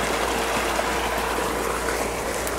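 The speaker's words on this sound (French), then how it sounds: "il y a une petite cascade" A small waterfall on a rain-swollen stream pours continuously, a full steady rushing hiss close by with no voices or breaks.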